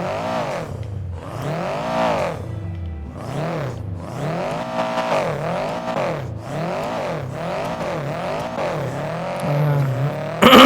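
Race car engine in a video game revving and accelerating through repeated rising and falling sweeps, loud and continuous, with a burst of louder noise at the very end.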